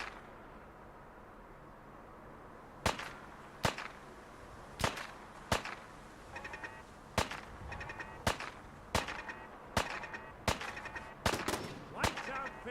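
Single gunshots from the video game Fallout 4, about a dozen sharp cracks spaced roughly every half to one second, loud and close over a low background hum.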